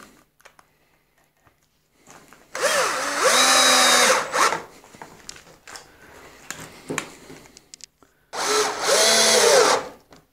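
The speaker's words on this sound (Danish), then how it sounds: "Så får den lige en skrue i enden her." Power drill driving a screw into the end of a mushroom column in a greenhouse, two whirring bursts of a few seconds each with rising and falling motor pitch, close, separated by quiet handling clatter.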